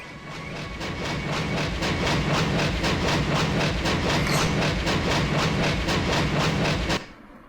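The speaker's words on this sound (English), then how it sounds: "And then the train comes" A train rumbles past in the Way of the Samurai video game, its steady rhythmic clickety-clack loud and continuous for about seven seconds before cutting off abruptly, with no talking over it.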